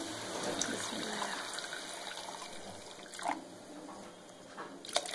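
Water is poured into a simmering Rajasthani besan gatta curry in a pot, a steady close splashing pour with a few brighter splashes near the end, no talking.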